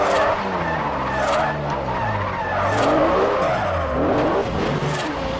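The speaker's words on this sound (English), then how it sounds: "I give it some gas, and I continue to drift" Car tires skid continuously during a drift in Forza, a loud sustained squeal over a revving engine in first gear, with no talking.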